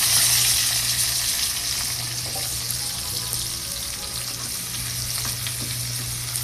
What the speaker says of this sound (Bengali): এগুলোকে হালকাভাবে একটু ভেজে নিতে হবে